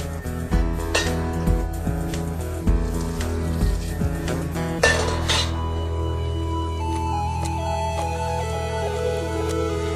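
A spoon stirs arborio rice risotto in a pot, giving scraping clinks and taps against the metal over a steady background hum, with the clatter fading toward the end.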